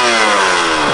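KTM 85 SX two-stroke dirt bike engine revving hard up close, a loud buzzing rasp that holds steady for a moment.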